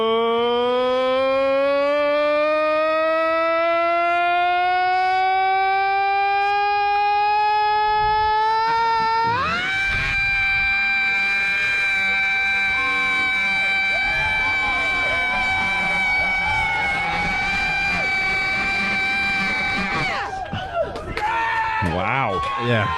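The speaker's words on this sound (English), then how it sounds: "Rock scream from guy in the confessional booth of the Mansfield Traveling Virus show." A fan at a Mansfield show lets out a long rock-style scream, rising steadily in pitch for several seconds, then jumping to a higher sustained howl that holds before breaking off, loud and close.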